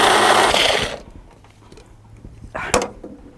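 A blender whirs loudly through pesto pasta sauce for about a second, then stops, followed by soft clatter and a brief sharp knock near the end.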